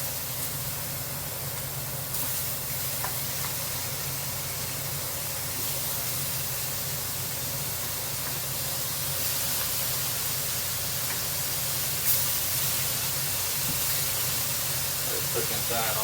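Ham and potatoes sizzle steadily in a skillet with a constant broad hiss that holds at moderate level throughout, with faint clinks now and then.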